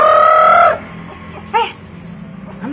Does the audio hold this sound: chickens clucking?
yes